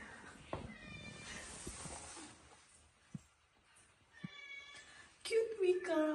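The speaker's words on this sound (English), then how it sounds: "Cute wee cats." Several cats meow and yowl at kennels, some calls short and others drawn out, the loudest cluster near the end, with quiet talking and thumps in between.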